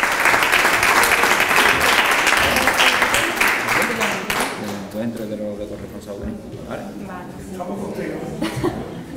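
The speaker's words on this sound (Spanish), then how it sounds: "Un aplauso para ella." Loud audience applause at a transnational youth exchange meeting, dense and steady for about four seconds before thinning out into scattered claps beneath murmuring voices.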